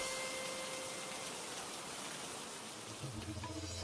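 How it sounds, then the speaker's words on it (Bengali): Steady rain in a cartoon falls as a soft, continuous hiss, faint and unbroken, with a few louder bumps just at the end. "নাহ, এ বৃষ্টি থামার মতন বৃষ্টি নয়।"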